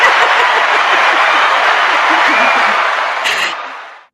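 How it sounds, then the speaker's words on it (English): A crowd at a caregiving talk applauds, dense and loud, with scattered voices and a brief cheer near the end before fading out. "that deserves an applause"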